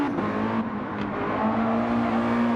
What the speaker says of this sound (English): redlining the car there as he comes around that first and second corner